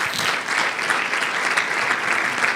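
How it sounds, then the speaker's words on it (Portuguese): A congregation at a youth retreat church service claps together, producing a brief, full, continuous burst of applause from many hands at steady volume. "Vamos aplaudir o nosso Deus."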